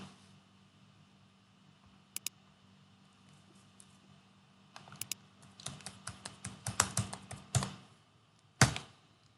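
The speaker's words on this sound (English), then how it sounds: "So in here we need to type the IP address of our virtual machine." An IP address for a virtual machine being entered on a computer keyboard: a couple of isolated keystrokes, then a dense run of crisp clicks and a final hard tap, close and clear with no voices.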